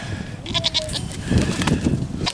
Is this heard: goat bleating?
yes